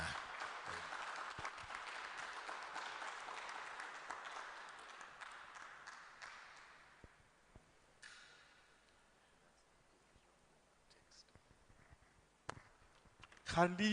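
Audience clapping for a priest after his talk on Ghana's challenges, applause fading out over several seconds into near quiet with scattered clicks and a brief louder burst at the end.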